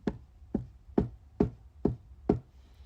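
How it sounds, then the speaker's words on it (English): Seven knocks at a steady, even rhythm, each one sharp and close with a low thud, with short silent gaps between them and no voices. "They heard 7 knocks."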